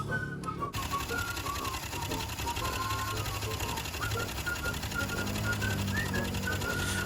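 Idling Honda Wave motorcycle engine with a fast, even mechanical ticking and clatter, oil not reaching the cylinder head, steady and close throughout after a brief quieter start.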